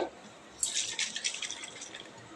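Tap water runs and splashes as something is rinsed clean during home cooking of a paneer recipe, a soft start followed by a steady hiss of flowing water with brief splashing bursts, close by and alone.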